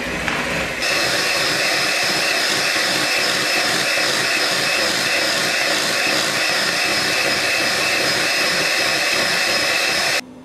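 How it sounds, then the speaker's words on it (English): An electric mixer blends cheesecake batter with a loud, steady, continuous motor whir that runs for about ten seconds, then cuts off abruptly, with no talk. "I'm going to use my electric mixer to blend this all until smooth"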